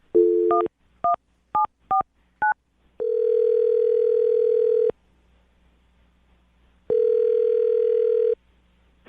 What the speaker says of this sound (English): Dial the phone number right now and get him on the phone.